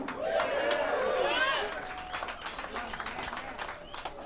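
A pool match crowd bursts into cheers and applause, a loud swell of clapping and shouts that fades after a second and a half into scattered claps, chatter and voices.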